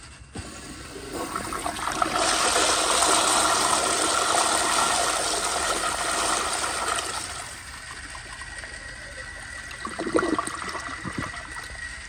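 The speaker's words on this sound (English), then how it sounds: "So now I'm gonna turn the pressure up a little bit, or actually quite a bit more. Let's see how this flushes." A 1998 Eljer Dover urinal flushes at raised water pressure: a loud, steady rush of water builds and holds for several seconds, then fades into gurgling and a few siphon glugs near the end.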